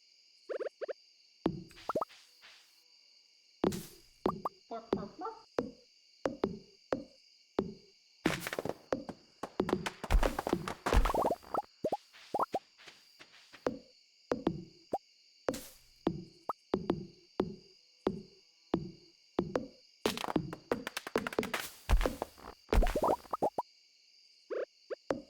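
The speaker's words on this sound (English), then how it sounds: "It's Robin still working at 11:40 at night" Repeated hollow hammering knocks from the carpenter Robin's construction work in the Stardew Valley farming game at night, a steady series of short plops and thunks with a few louder clustered bursts.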